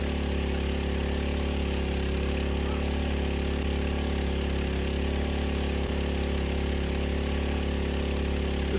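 A gasoline mud pump engine runs steadily while a water well is sunk by jetting down through a 1-inch pipe, a loud constant drone with no pauses or talk.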